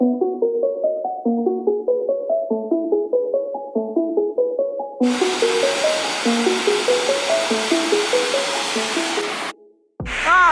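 Bash Bish Falls in southwestern Massachusetts roars as a loud, steady broadband rush of falling water, cutting in abruptly after a stretch of melodic music and continuing without speech.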